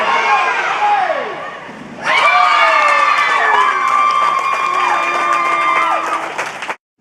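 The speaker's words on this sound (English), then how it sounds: "When they scored, the stands erupted, and it was really amazing to see so much support." Spectators in the stands at a girls' water polo game erupt in loud, high-pitched cheering and shouting after a goal. The noise swells suddenly partway through and stays dense and close until it breaks off.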